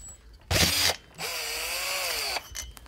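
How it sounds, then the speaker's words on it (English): Two bursts from a power drill, a short one and then a longer whine, as it unbolts the cylinder from a 26cc gas engine on a large-scale Losi 5T RC truck. Close and loud with no talking. "See if we can do it with the drill."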